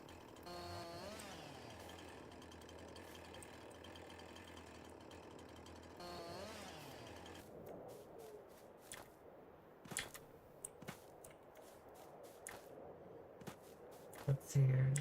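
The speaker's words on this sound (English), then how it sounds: "Who needs a Scorpion King when you have a Husqvarna chainsaw and you're going ham?" A Husqvarna chainsaw cuts logs in a video game, its buzzing drone running for about seven seconds before giving way to scattered clicks and knocks while a voice talks over it.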